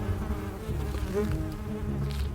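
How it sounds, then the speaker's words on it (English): Angry bees buzz as an audio story sound effect, a dense continuous swarm drone that stays loud and steady throughout with no voices. "The bees got upset, and Eka ran back toward the house with bees buzzing angrily behind."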